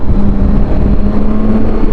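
A heavy 334-kilo BMW K1600 GTL touring motorcycle pulls hard under power, its engine holding a loud, steady, close droning note with wind and road rush throughout.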